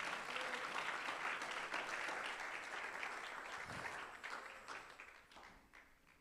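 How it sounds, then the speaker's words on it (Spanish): Applause in a church as a standing congregation claps for the Lord after a sermon: steady, dense clapping from a crowd, fairly faint and distant, tapering gradually toward the end. "dele ese aplauso fuerte al Señor"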